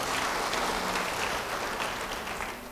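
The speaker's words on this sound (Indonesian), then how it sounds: "Yang percaya beri tepuk tangan bagi dia." A church congregation claps together in sustained, dense applause that stays loud and even throughout, then fades slightly toward the end.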